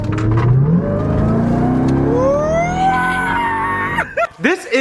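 A custom truck with a full custom exhaust and a custom hydraulic clutch line revs hard. The engine climbs in a steady rising whine, loud and close, then drops off abruptly near the end into a few short, choppy bursts.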